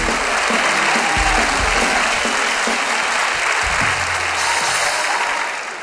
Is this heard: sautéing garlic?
no